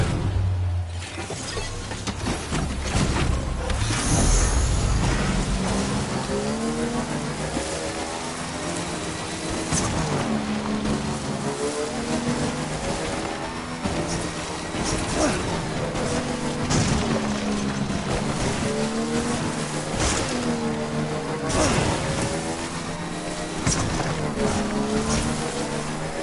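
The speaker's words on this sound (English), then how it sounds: "Vehicle ready." Vehicle engine driving in the Death Stranding video game, a steady droning motor with rising and falling revs over rough terrain, loud and continuous with occasional knocks and thuds.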